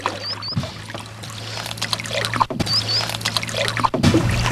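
Canoe paddling on open water, with rhythmic paddle strokes splashing and dripping at about two-second intervals, close and moderately loud, and a faint bird chirp in the background.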